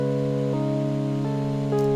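Sustained big-room synth chords, thick stacked tones changing every half second or so, loud and alone with no voices.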